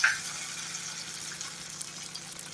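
Onion and capsicum frying in hot oil with added spices, giving a steady, fairly quiet broadband sizzle that holds level for the whole stretch without any voices.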